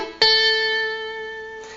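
Electric guitar lead phrase in a bluesy minor pentatonic style: a sharp plucked attack followed by a sustained, ringing note with clear overtones that slowly decays, heard alone and fairly loud.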